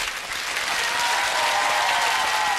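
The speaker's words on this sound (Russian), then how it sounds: "Эти аплодисменты вам!" Steady, dense applause from a game-show crowd in the Pole Chudes (Field of Miracles) Capital Show video game after a super-game win, holding at an even, loud level throughout with no break.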